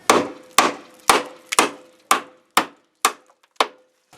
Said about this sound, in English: use your big hammer and smash these in